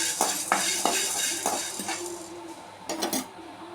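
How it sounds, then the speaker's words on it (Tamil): Black pepper roasting in a pan, stirred with a metal utensil that scrapes and clinks against the pan in a quick irregular series of close, fairly loud strokes, with no talking. "இப்போ மிளகு இதையும் வறுத்து எடுத்துக்கலாம்"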